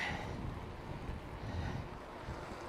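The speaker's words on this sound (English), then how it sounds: "Yeah, it's still windy." Heavy wind buffeting a Rode Wireless Go II microphone near a beach, a constant low rumbling roar with no other sounds breaking through.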